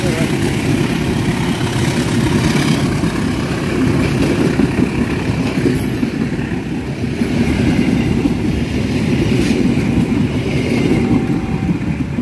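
Local Garut–Cibatu passenger train hauled by a locomotive: a heavy, continuous rumble of engine and rolling cars fills the clip, loud and close, with faint talking underneath.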